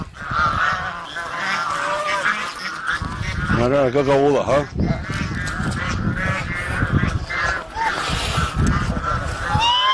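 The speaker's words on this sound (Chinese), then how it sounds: "给我逮一鹅，来客人了。" An old, fat farm goose, about two years old, honks loudly and repeatedly while being caught, its harsh calls overlapping with people talking nearby.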